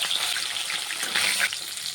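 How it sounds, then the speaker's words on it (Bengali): Catla fish heads fry in hot oil in a kadai, giving a steady, close, even sizzle and crackle that holds at one level throughout, with no talk. "তেলটি গরম হয়ে গেছে কাতলা মাছের মাথাগুলো ভেজে নেব"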